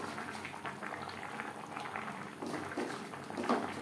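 Tangra fish curry simmers in its gravy, a soft, steady bubbling and low burble close by with no one talking.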